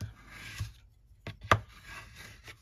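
Burnishing the score lines on a paper note card, short soft rubbing swipes and a sharp tap, close and quiet, in a few separate strokes with gaps between.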